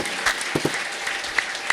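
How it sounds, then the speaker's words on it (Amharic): A church congregation claps for the Lord during a prophetic service, a few loud sharp claps standing out over a steady room-wide patter of applause. "እስቲ አጨብጭቡ ለጌታ።"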